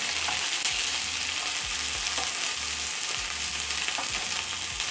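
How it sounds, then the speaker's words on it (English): Red onion and green onion fry in hot oil for a noodle and vegetable stir-fry, making a bright, continuous sizzle close by, with a low rhythmic rumble underneath. "the oil is hot, I'm going to be adding in my red onion and green onion, and I'm going to stir in."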